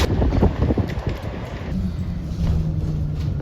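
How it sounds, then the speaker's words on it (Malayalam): Strong wind blows during a storm in the UK, a loud, continuous rush with gusty buffeting against the microphone that eases slightly partway through. Nobody speaks. "നല്ലപോലെ കാറ്റടിക്കുന്ന സമയം"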